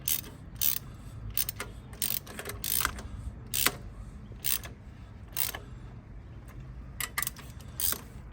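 A hand ratchet tightens the valve cover bolts on a 2001 Toyota Camry engine, giving short, close bursts of crisp clicking strokes in an uneven rhythm with brief pauses between.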